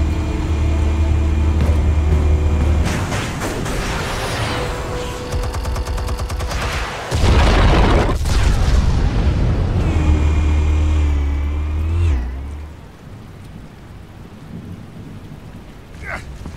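Explosives detonate in the Batman: The Telltale Series game, with loud, sustained booming blasts and rumbling debris that roll on for several seconds before dying to a quieter rumble.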